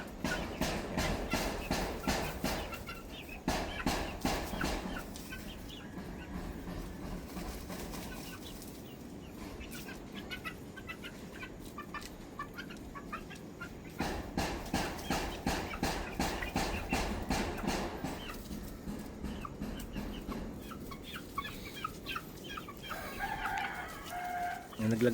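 Sweater and Gilmore Hatch gamefowl in a simple backyard breeding pen cluck continuously, with roosters crowing and occasional wing flapping, a lively close flock heard alone without talk.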